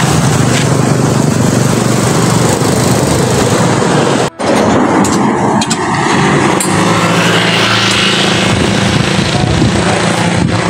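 A new motorcycle's engine runs loudly and steadily up close while the bike is being unloaded outdoors, a continuous rough drone with a brief dip partway through and some voices in the background.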